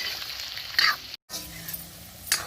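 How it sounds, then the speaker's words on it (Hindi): Potatoes are pan-roasted for an eggplant curry, giving a steady bright sizzle with scraping stirs. The sound cuts out completely for a moment, then resumes with a sharper flare near the end. "आलू को थोड़ा सौंधा सौंधा भून लेते हैं"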